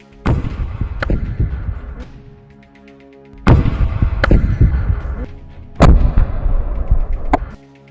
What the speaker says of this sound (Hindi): एक और लड़ाका दूर खड़े आईडीएफ टैंक पर रॉकेट फायर करता है, जिसमें जोरदार धमाका होता है